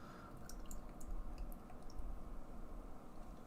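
Lupulin Brewing's Strictly Illegal triple IPA being poured into a small glass, a faint, steady trickle with soft dripping and splashing and a low rumble underneath.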